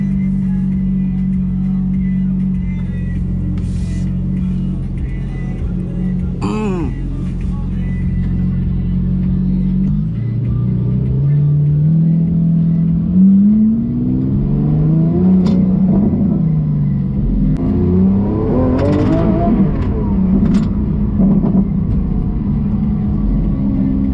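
A Lamborghini SVJ's engine idles with a steady low rumble, then pulls away in first gear, the pitch rising and falling through gentle throttle as the car creeps forward close by.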